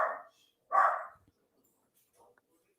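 Dogs barking, two loud close barks in quick succession followed by faint scattered yips, with no talking.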